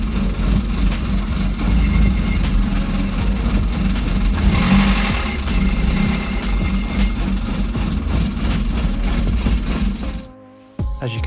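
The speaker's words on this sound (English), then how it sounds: "So the new injectors, new to me injectors came, so I fitted them, and this is the car running here." An Audi A3 8V engine runs unevenly after new injectors were fitted, a loud, close, continuous idle with a rhythmic knocking chatter before the sound cuts off sharply near the end.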